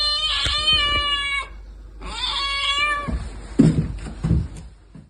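A striped kitten meows loudly twice in long, high, wavering cries, close by in a cat shelter, followed by rustling and soft thumps.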